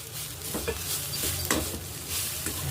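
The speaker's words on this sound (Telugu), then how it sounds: "ఒక టీ స్పూన్ కారం వేస్తున్నాను ఇప్పుడు బాగా కలుపుకోవాలి" Fried bitter gourd pieces with chili powder are stirred in a pan, giving a steady sizzle with repeated scraping and clinking strokes of the spoon at an uneven rhythm, close and fairly loud.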